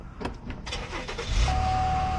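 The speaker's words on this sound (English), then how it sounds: "Start the car." A car engine cranks and catches after a locksmith programs a replacement key for a vehicle with all keys lost, followed by a low steady idle rumble.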